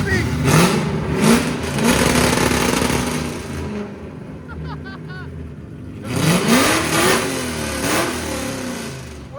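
A procharged V8 Ford Mustang GT with headers and straight pipes revs loudly and close in two bursts, dropping to a rough idle in between, while people talk over it.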